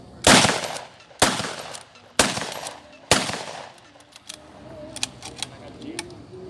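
Bolt-action WWII reenactment weapon fired from the hip during a demonstration: four sharp, loud shots spaced about a second apart, each followed by a short echo, then softer clicks and rattles of handling the bolt.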